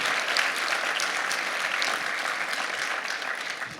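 Conference audience applauding the organisers at a PHP forum, a steady wash of many hands clapping at moderate volume from a sizeable room, continuous without speech.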